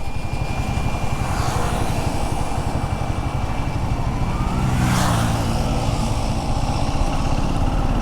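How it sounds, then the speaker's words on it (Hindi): A Royal Enfield Guerrilla 450 motorcycle's engine hums steadily in first gear, a continuous close drone that swells briefly around the middle with no dramatic surge, with no talk over it. "ये पहले गियर में ना आपने रेव किया तो ज़्यादा एक्शन कुछ होता नहीं है"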